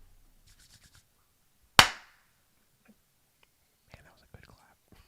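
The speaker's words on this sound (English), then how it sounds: "that was a good clap" One sharp, loud hand clap rings out alone, with quiet whispered talk before it and again a few seconds after.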